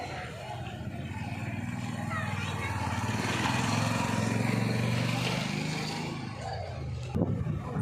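A passing motor vehicle on a road near a home kitchen, a steady engine drone that swells louder toward the middle and then fades, heard with talk over it.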